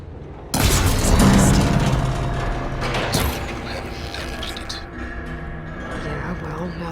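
A machine arm in Horizon Forbidden West crashes down after its coupling is shot, a sudden loud heavy boom and clattering metal impact that decays into a rumbling mechanical tail, with game music underneath.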